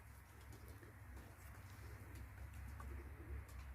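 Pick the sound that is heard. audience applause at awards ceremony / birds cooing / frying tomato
birds cooing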